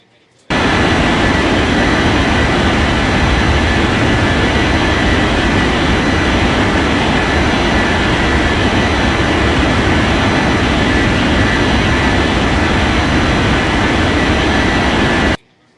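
Jet airliner taking off in an air traffic control video game, a loud continuous engine roar that starts abruptly, holds steady throughout, then cuts off suddenly.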